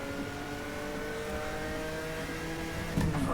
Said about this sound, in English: Well, this engine is somewhat torquey.